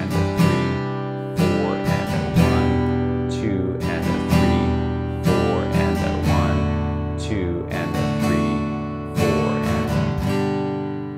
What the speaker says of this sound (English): Now we can carry on adding some 16th notes after some of the other beats.